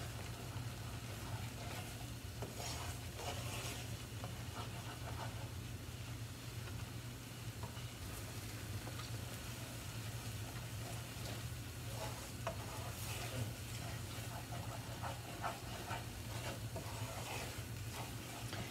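Refried beans loosened with an extra capful of oil are stirred in a pan, giving a steady low sizzle with soft scraping strokes throughout, fairly quiet and with no voices.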